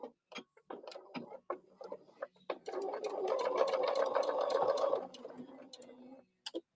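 A sewing machine stitches a pin cushion, first a series of slow single needle strokes ticking one by one, then a short continuous run of fast whirring stitches, close and clear, ending with a few more isolated clicks.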